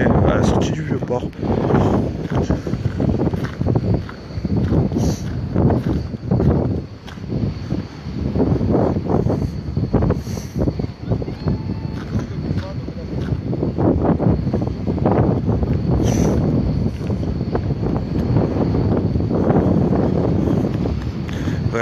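Wind gusting into the microphone by the sea at the exit of an old port under low clouds, a steady rumbling roar that sits under near voices talking throughout.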